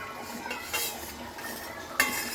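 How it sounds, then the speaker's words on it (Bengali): Fish head being gently stirred in frying oil in a pan for fish head curry, with soft scraping and a few faint clinks of utensil against the pan, low and close. "এভাবে তেলটা দিয়ে দিলাম দিয়ে আমি আস্তে করে মাথাটা নাড়িয়েও দিচ্ছি"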